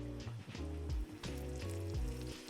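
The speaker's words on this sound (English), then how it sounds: "Then I'm gonna lower it into the oil while shaking and stretching it" Batter-coated shrimp for tempura lowered into hot vegetable oil, bursting into a close, busy sizzle and bubbling that swells and settles in waves, with no voices.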